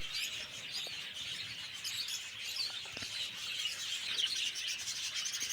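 Small finches chirp and twitter together in a colony aviary on a bird farm in West Bengal. The dense, overlapping high chatter continues throughout at a moderate distance, with faint rustling beneath it and no talking.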